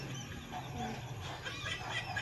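A chicken clucks in short, scattered calls over a busy, noisy rural background, fairly close but partly masked by the surrounding din.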